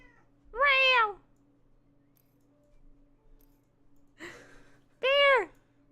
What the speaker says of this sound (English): He's meowing at us.